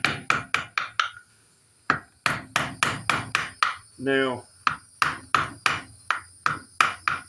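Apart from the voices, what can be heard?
chiseling out a wooden pistol stock's ramrod channel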